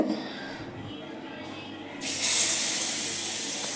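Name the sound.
paneer sizzling as it fries on a tava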